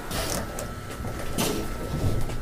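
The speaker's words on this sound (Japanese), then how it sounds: "ドアが閉まります。" A short mechanical slide and clunk of train doors shutting on the Shizuoka Railway Shizuoka-Shimizu Line, with a brief hiss and rattle over a steady background hum.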